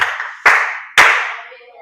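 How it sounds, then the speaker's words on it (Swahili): Three sharp hand claps from a group of children in a church kids' program, spaced about half a second apart and fading with room echo. "Pigeni makofi mengi sana."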